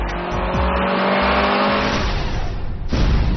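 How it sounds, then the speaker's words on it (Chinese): A car drives at about 60 km/h without braking during a stunt-driving test beside a concrete wall. A close, steady engine roar mixes with tire noise throughout. "他驾驶了一辆汽车，在不踩刹车的情况下"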